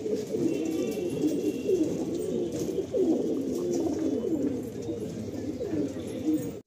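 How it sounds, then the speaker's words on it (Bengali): A pair of Kalanka pigeons, a male and a female, coo continuously and loudly at close range in rolling, overlapping phrases after being released from their loft, with a steady background hum. "আপনারা কালাঙ্কা পায়রা অনেকে পছন্দ করেন"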